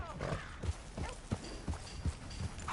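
Horse hooves clip-clop at a steady walking rhythm, close and fairly loud, in the Western game Red Dead Redemption 2, with faint background ambience.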